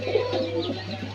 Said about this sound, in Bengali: এখানে দেখতে পাচ্ছেন একজোড়া মাক্সি রেসার কবুতর, খুব সুন্দর।